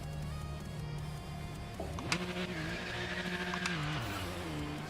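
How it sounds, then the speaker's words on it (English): Pit stop in the Project Motor Racing racing game, with a crew changing tyres: a sustained engine drone with shifting pitch, a sharp mechanical transient partway through and brief tool-like bursts, steady and fairly loud throughout. "they're putting new tyres on too"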